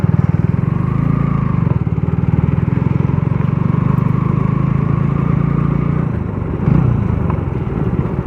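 A Bajaj NS125 motorcycle with a loud modified exhaust rides steadily on a road, its engine note a continuous rumbling drone for several seconds with a slight change near the end, close and loud, with no speech.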